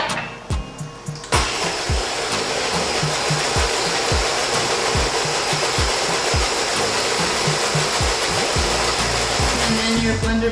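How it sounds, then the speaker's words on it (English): A kitchen blender whirs up to full speed after a few short pulses, blending melted butter into Bearnaise sauce with a loud, steady motor drone and rhythmic churning knocks. "And then we'll add the melted butter. And blend that."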